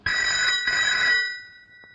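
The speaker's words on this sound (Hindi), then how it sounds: "देखो किसका फोन है।" A telephone bell rings loudly for about a second and a quarter in an indoor setting, a steady electronic trill that then cuts off, leaving a brief quiet tail.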